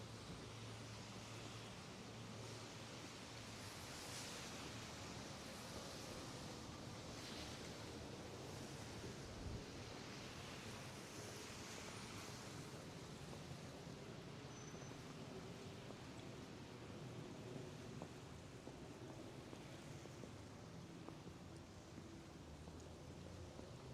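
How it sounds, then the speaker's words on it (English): Steady, broad rushing wind during a snowstorm on a Toronto street, a constant dense roar with no breaks and no voices. "You see the wind is just whipping now, the snow everywhere."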